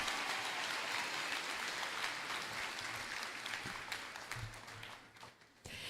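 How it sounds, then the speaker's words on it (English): Sustained applause from a large crowd at a middle school moving-up ceremony, dense clapping that holds steady for several seconds before gradually thinning toward the end. "Let's give it a round of applause."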